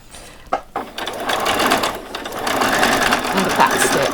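A sewing machine runs steadily for several seconds, finishing a seam with a back stitch on a Christmas party dress, loud and close after a brief pause and a couple of clicks at the start.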